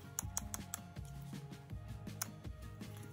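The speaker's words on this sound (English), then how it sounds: "Needle depth adjusts just fine with a click grip." Crisp plastic clicks from the grip of a CNC T4 tattoo machine being turned to set needle depth, several sharp ticks in a quick run followed by a few more, close-up over low background hum.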